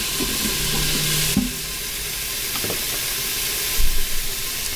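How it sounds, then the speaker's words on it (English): Chopped vegetables and onion sauté in an Instant Pot for a lentil soup, giving a steady, loud sizzling hiss with a brief stirring scrape near the end and no talking. "I'm going to give them just a really quick saute, just to, kind of soften them up a little bit before I start the soup"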